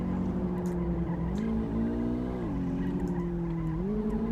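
A Volkswagen Golf 8 skids through a handbrake drift in the game City Car Driving, its tires squealing in a steady, sustained screech with pitch sliding up and down over the engine, loud and continuous.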